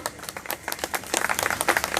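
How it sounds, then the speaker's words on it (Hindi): Crowd applause at a public speech, a fairly brief patter of clapping that grows denser and louder toward the end. "जोर से बजाइए तालियां"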